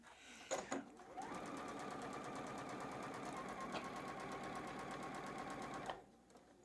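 A sewing machine stitches the center seam of a quilt, a steady close mechanical whir with fast rhythmic needle ticking that runs for several seconds between brief handling clicks.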